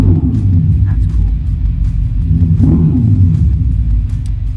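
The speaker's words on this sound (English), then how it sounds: "So right now what you're hearing is that little bit of kind of rumble," A Dodge Charger Daytona electric muscle car plays its synthetic engine sound, a loud, deep, continuous rumble that pulses unevenly, heard up close.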